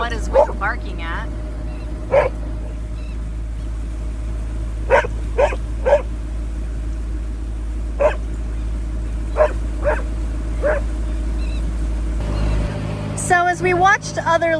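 A dog named Witten barking aboard a boat on a Great Loop trip, short sharp barks coming singly and in pairs at irregular intervals over a steady engine rumble, ending in a quick flurry of yips.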